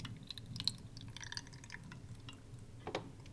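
Cold brew coffee straight from the fridge trickles and drips into a glass, faint and close, with a few small clinks and a brief splash near the end.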